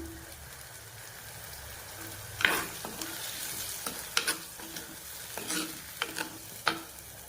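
Dissolved tamarind water goes into a simmering dry fish curry, with a soft background sizzle and repeated scraping stirs and knocks of a spoon in the pot.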